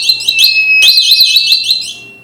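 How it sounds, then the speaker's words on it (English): A laser security alarm set off when the beam between the laser source and detector is cut: a loud, warbling electronic siren that repeats rapidly and sounds alone, with a brief break before it starts again. "I just cut the laser path and the alarm was quickly triggered."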